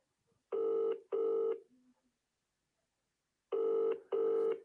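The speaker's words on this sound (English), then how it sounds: "This is Lewis's son I'm ringing now" A phone call rings out with two pairs of loud, even buzzing ring tones, a pause of silence between the pairs, heard close and clear with no talking.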